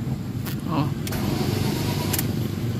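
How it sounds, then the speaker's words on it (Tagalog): A Ford car engine cranks and catches, settling into a low steady idle, with brief clicks and a faint voice nearby. "i-start ko na yung makina para maramdaman nyo na yung makina okay na yung ignition nya"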